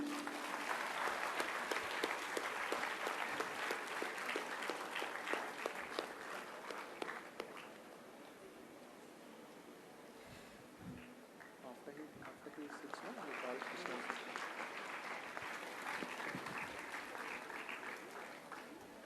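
A big round of audience applause greets a bank's zonal head arriving on stage at an all-India quiz competition, dense crowd clapping that dips midway and swells again, with a voice speaking over it at times.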